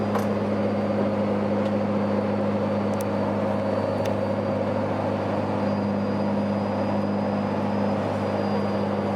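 Steady, droning engine hum inside a pickup truck with an S468 turbo and 100% injectors while towing a Mustang, constant and unbroken with a strong low tone and no talking.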